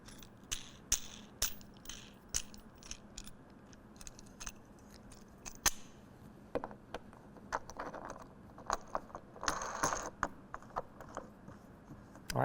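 A tonneau cover clamp is tightened onto the bed rail of a 2024 Toyota Tacoma, making faint scattered clicks and ratcheting ticks at an uneven pace, close by and quiet.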